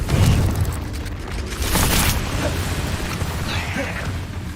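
Confringo fire spell blasts in Hogwarts Legacy: a loud booming burst at the start, a second broad explosive surge around two seconds, then crackling, rumbling debris fading under continuous game noise.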